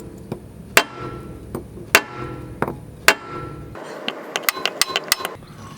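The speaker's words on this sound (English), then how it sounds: "Then you give it a good whack, and sometimes this thing will just pop the ball joint right out." Sharp metal-on-metal hammer blows strike a Subaru suspension ball joint to knock it free from the control arm, several loud separate whacks spaced about a second apart, then a quicker run of lighter taps and clanks near the end.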